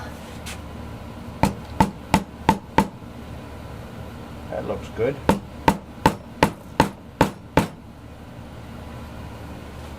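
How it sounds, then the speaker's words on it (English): Muffled rubber hammer taps through a doubled-up rag in two quick runs, five blows then about eight, steady and close, with a brief spoken remark between the runs. "We'll use a doubled up rag, and we'll use a rubber hammer."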